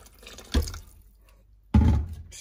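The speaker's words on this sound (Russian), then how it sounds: "если смотреть, то еще надо воды долить" Water is poured into a container, about a litre in all, in two short splashing bursts separated by a quiet pause, close and fairly loud.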